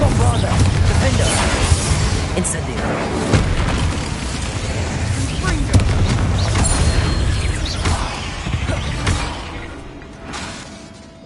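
Spell explosions blast in a fantasy wizarding video game as fire and blasting curses are cast in quick succession, a loud, dense run of booms and crashes over rumbling effects that eases off near the end.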